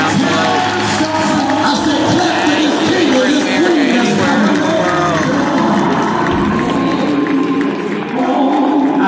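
A church congregation claps and cheers during a sermon, a dense, loud crowd roar with music throughout.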